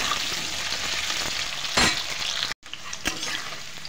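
Potatoes frying in a pan over a medium flame, a loud continuous sizzle close by, broken by a couple of sharp stirring scrapes and one brief cut to silence.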